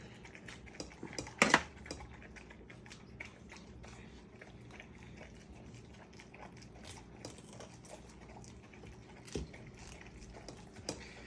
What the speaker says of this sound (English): you know it's fully cooked when you cut into it